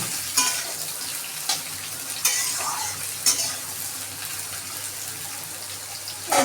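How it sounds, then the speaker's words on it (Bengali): Pieces of karela fish head tossed into hot oil, with a steady sizzle of frying and a few sharp scrapes of stirring spaced across the clip, close up with no talk. "তেলটা গরম হয়ে গেছে, এখন এর ভিতরে দিয়ে দেবো সেগুলো। দিয়ে ভালো করে নেড়ে চেড়ে ভেজে নেব।"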